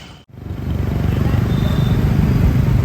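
A dense mass of motorcycles roars past during a political party bike rally in an Indian city, a loud continuous rumbling engine drone that swells after a brief cutout and stays steady, close by.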